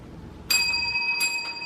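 A bright notification bell sound effect rings twice in quick succession, clear and close, with a shimmering metallic tone and no voices.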